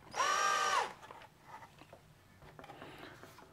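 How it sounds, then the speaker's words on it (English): Screws driven into a 3D printed slip casting mold with a gasket, a single loud, steady power-driver whir of under a second, followed by faint handling clatter. "I'm gonna go ahead and put these in, and then I'll put in the rest of the screws."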